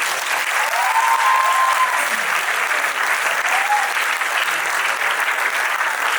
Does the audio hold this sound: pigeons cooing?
no